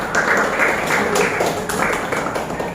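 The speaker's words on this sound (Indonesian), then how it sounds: "Tepuk tangan untuk kelompok 4." A classroom of students claps together for a group, with dense, steady applause lasting the whole moment.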